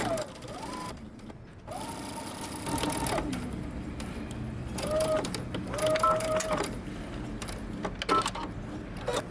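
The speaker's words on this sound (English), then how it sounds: "I'm going to take you over to the sewing machine, and I'm going to show you how to stitch around your pocket." A sewing machine stitches around a skirt pocket in several runs of fast mechanical whirring, each starting and stopping with short pauses between, close by and fairly quiet.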